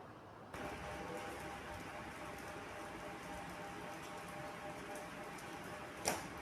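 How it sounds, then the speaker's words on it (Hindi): Steady, dense rain pours down evenly after a brief quiet start, with a single sharp splash or knock near the end. "बारिश कितनी तेज हो गई, बहुत तेज बारिश हुई"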